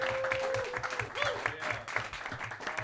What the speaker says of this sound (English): start clapping right now for Ryan Peterson.